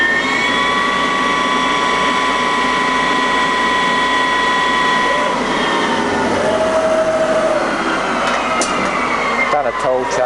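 A Bemato BMT-2160 CNC teach lathe spindle turns at roughly 1600 RPM, giving a loud, steady mechanical whine with sustained tonal hum that holds throughout and shifts slightly near the end.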